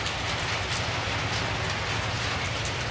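Steady rain falls around an abandoned house in a forest, a dense, even hiss of drops on surfaces that stays loud and constant throughout.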